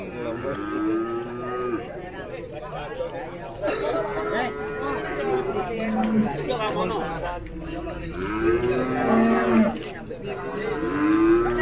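Cattle, including red maroon Limousin bulls, moo repeatedly at a busy livestock market, long drawn-out lows rising and falling one after another nearby, mixed with crowd chatter and someone speaking.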